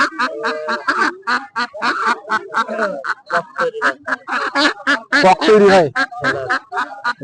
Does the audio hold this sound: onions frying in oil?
no